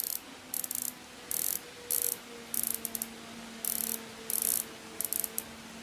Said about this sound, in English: I think that is the loveliest bezel click that I've got that I've had of any watch